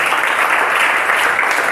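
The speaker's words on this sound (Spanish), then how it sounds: "Den un fuerte aplauso al Señor." Strong applause fills a church service after a prayer to the Lord, a dense, steady wash of many hands clapping close and loud for the whole short stretch with no voices over it.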